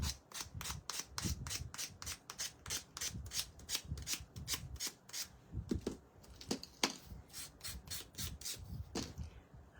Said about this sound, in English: I gotta grab another piece of sandpaper.